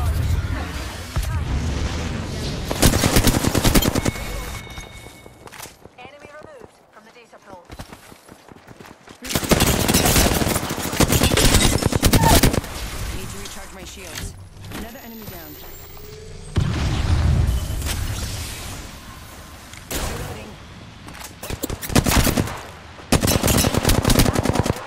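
Bursts of automatic gunfire in the battle-royale video game Apex Legends, loud rattling volleys alternating with quieter stretches, with occasional booms.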